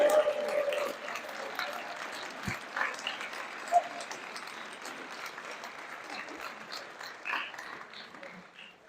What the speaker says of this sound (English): let's give those guys that have supported you all season a big round of applause